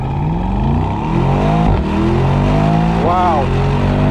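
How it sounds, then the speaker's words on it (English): Mercedes-AMG SL55 accelerating hard on the road, a loud close engine roar rising through the gears with a brief shift dip and sharp exhaust pops and crackles near the end. "The exhaust pops really, really nice."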